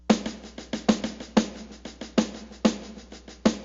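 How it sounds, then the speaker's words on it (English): A snare drum plays quick, even paradiddles, with some strokes clearly louder than others in a repeating accent pattern. No voices. "I could accent the first beat of the first paradiddle and the second beat of the second paradiddle"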